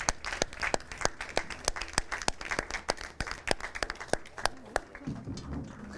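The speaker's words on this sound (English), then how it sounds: "Just applaud this man." An audience gives Bishop Viren a standing ovation at an indoor gathering, sharp clapping crackling throughout and thinning toward the end, where a voice begins talking over the last scattered claps.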